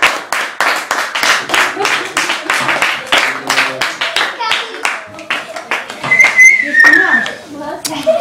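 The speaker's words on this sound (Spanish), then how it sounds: "Un aplauso, chicos." Children clap together in a school setting, a quick run of sharp, loud handclaps that trails off, with voices and a whistle-like squeal near the end.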